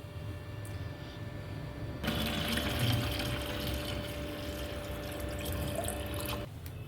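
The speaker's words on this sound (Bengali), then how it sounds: "এখন জল ভরবো।" Water from a tap filling a cooking pot in a home kitchen, a steady rushing hiss that starts abruptly, runs evenly for several seconds, then cuts off.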